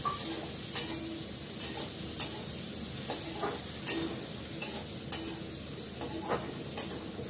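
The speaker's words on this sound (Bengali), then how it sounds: "সঙ্গে আমি আলুটাও দিয়ে দেবো, ভাজা হয়ে যাবে।" Potatoes frying in a pan with cumin and onion, a soft continuous sizzle broken by regular scraping stirs of a spatula, close and without talk.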